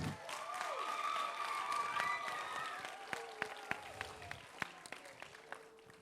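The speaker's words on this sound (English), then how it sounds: "Let's give our graduates another round of applause." Applause for graduates at a church academy graduation program, starting under sustained musical tones and thinning into scattered, distinct claps, moderately distant and fairly quiet.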